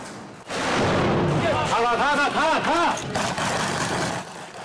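Gunfire rings out inside and around buildings during an army combat training exercise, with loud rapid bursts of shots over a droning mechanical roar and a voice talking underneath.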